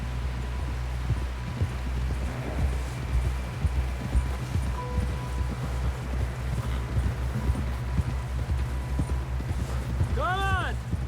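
Horse hooves clip-clop in a steady rhythmic gallop in the video game Red Dead Redemption 2, soft and continuous under a low background rumble, with a brief voice near the end.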